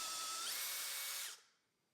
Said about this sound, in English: with a bigger bit, I drilled new holes on top of the old ones